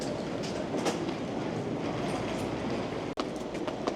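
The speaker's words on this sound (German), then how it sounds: "Hier ist schon ein ICE angekommen" Steady rumble of an ICE high-speed train arriving at a German station platform, continuous low noise with faint wheel clatter and a brief dropout near the end.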